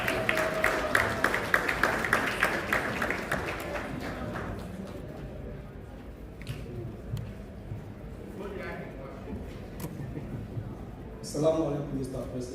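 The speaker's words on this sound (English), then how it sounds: "Please welcome him with a round of applause." Audience at a presidential pitch competition grand finale applauds in a loud burst that fades out over several seconds, followed by quieter room noise and a brief spell of talk near the end.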